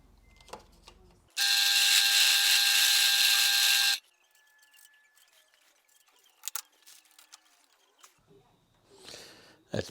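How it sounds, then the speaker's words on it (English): A file grinds down the threads of a bolt spinning in a drill press, giving a loud, steady whine of about three seconds that stops abruptly, followed by quieter clicks and handling noises. "I'm just going to turn it on, and with the file I'm just going to grind down a few of these threads here"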